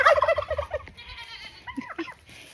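Several turkeys gobble at a farm during chores, a loud burst of overlapping warbling calls up close at the start, then quieter scattered gobbles and clucks trailing off.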